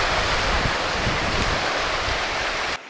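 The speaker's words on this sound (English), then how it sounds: "I was wondering why the waves are stronger over here" Ocean waves break over shallow lava rock along the Hawaiian coast, a steady loud rush of surf and spray with wind buffeting the microphone, continuous throughout and ending abruptly.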